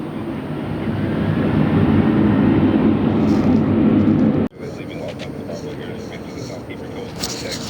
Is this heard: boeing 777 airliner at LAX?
yes